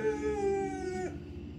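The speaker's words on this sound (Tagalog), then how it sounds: "umaalulong pa siya." A dog gives a single sustained howl, a steady tonal wail that drops off abruptly after about a second, heard alone over a low background hum.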